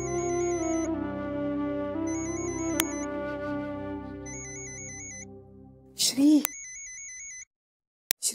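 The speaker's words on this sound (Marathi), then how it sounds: "श्रीचा फोन." A phone ringtone for an incoming call plays a repeating melodic tune in steady phrases, loud and close, with a brief burst of voice near the end.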